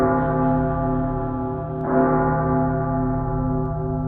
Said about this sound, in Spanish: escuchó el sonar de las campanas